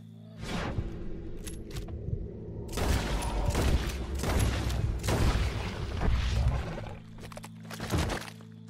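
Gunfire in a Red Dead Redemption 2 circus wagon mission, a cluster of loud broadband bangs and booms in quick succession over a low steady hum, with a final sharp shot near the end.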